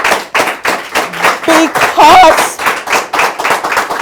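Rhythmic clapping from an audience, loud and close, with a voice speaking briefly partway through.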